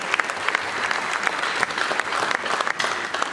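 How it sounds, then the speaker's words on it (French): A crowd at an opposition political convention applauds delegations from the provinces, a dense, sustained burst of clapping from many hands, fairly near and with no talk over it. "Les délégations, applaudissons pour les amis qui viennent de toutes les provinces de la République."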